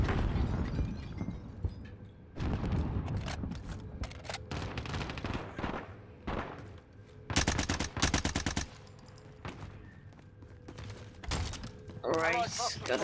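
Rapid bursts of automatic gunfire and single shots crack through a Call of Duty Warzone Rebirth Resurgence match, loud and repeated across the whole stretch, with a player talking over the action.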